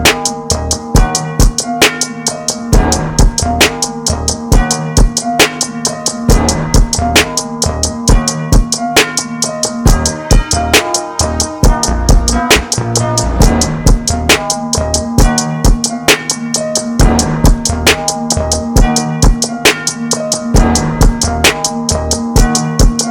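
A finger-drummed beat in a steady 16th-note rhythm, tapped out on pads with dense, evenly spaced hits. It runs loud and close for the whole stretch, punchy kicks under crisp rapid percussion, with no voices.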